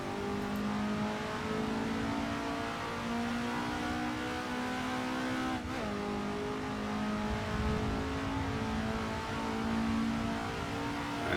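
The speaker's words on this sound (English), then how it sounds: "as we are racing the beautiful Alfa Giulia GTA, I will take you with me on a lap of the Betonschleife." An Alfa Giulia GTA races around the Betonschleife in a driving video game, its engine holding a steady, sustained drone with small rises and dips in pitch as it runs through gears, alone with no talk.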